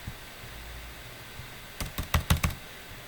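A computer keyboard being typed on, heard as a quick run of about five crisp keystrokes close by near the end, after a quiet stretch with faint background hum.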